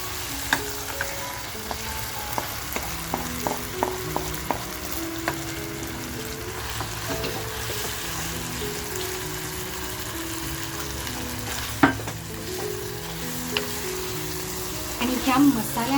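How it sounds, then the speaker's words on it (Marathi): Mutton frying in masala in a pan over a gas flame, a continuous close sizzle with a run of rhythmic stirring taps early on and a few louder clatters later, no speech. "मटण फ्राय करत ठेवले बघा, गॅस चालू आहे."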